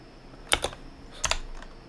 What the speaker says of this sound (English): we just have to type it then